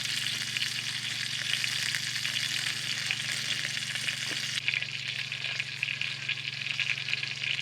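Nine huge bangers sizzle and fry together in a crowded pan, a steady, dense crackle of spitting fat that runs without a break, close and loud, with a slight shift in texture partway through.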